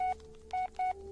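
Phone dialing tones in the Blair Witch horror video game, three short touch-tone beeps with pauses between them, fairly quiet over a faint steady hum.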